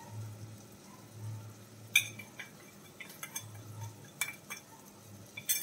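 A spoon clinks and scrapes against a pan while stirring tomatoes with turmeric and other spice powders for a Kerala prawn curry in coconut gravy, a string of sharp metallic taps over quiet low sizzling, fairly faint and close.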